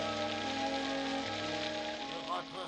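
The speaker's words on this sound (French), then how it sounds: "Il pleut. En plus, je vais être trempé." Steady cartoon rain pours down on an autumn carnival day in the Smurf village, a constant hiss with a sustained musical tone running beneath it throughout.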